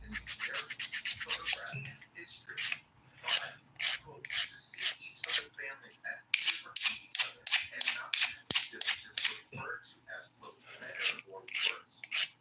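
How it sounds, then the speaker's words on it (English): Hard polygel on a nail, shaped with the 100 grit side of a nail file: rapid, close, dry rasping strokes that repeat in quick bursts with short pauses between. "I'm using the 100 grit side of my file here because I'm working with a hard gel"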